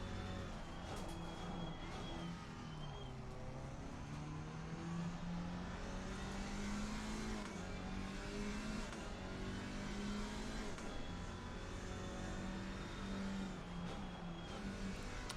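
Race cars in close racing in a video game at Barcelona, engines droning and rising in pitch as they accelerate together, a continuous dense roar with brief higher whines of passing cars.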